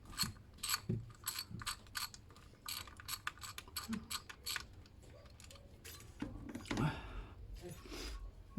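A ratchet wrench loosens a long bolt on the 3.0 TDCI diesel engine of a 2007 Ford Ranger during a tappet cover gasket replacement. Quick, close metallic clicking runs in rapid bursts with short pauses, and a few heavier clunks come near the end.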